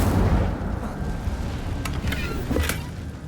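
Incendio fire spell cast in a Harry Potter video game: a low rumbling burst with crackling, punchy pops and whooshes, moderately loud, with no talking.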